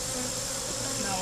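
Bees buzz around an open beehive, a dense, steady, close drone of many insects, continuous for the whole moment.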